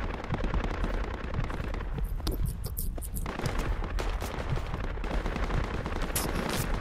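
Rapid gunfire and explosive thuds from a Project Reality military shooter match, dense and loud throughout with clustered bursts, while a voice speaks faintly.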